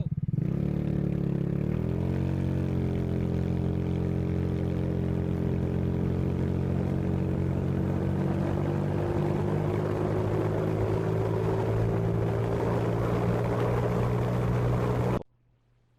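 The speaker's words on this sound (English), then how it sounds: "To test acceleration, I found a rarely used stretch of road to determine how fast the scooter would accelerate within a quarter mile." A GY6 scooter fitted with a performance carburetor accelerates on a quiet road, its engine droning steadily and rising gradually in pitch over about fifteen seconds before cutting off abruptly.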